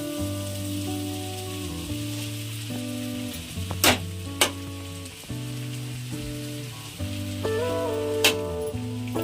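Flattened rice poha tipped into a pan of sizzling cooked potatoes, a steady close frying hiss with a few sharp scraping clicks from the spoon, no voices over a hum of music.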